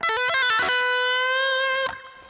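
A few quick distorted guitar pull-offs slur downward, then one note rings out and sustains for over a second before cutting off.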